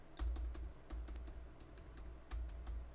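Fingers type on the keyboard of a 2017 15-inch MacBook Pro, producing quick, close clicky keystrokes in small bursts with brief pauses between them, against a low steady hum.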